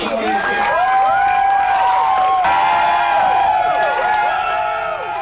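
Fans cheering and whooping in a crowded bar during a 1995 Bills–Dolphins AFC Wild Card playoff game, a loud, continuous crowd roar with voices and shouts layered throughout.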